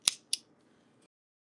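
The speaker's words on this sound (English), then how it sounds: "Okay, so I'm going to just cut this thread off." Thread is cut with a cutter while sewing a bedsheet into a ruffled skirt: two quick, crisp snips close together, followed by a faint rustle and then silence.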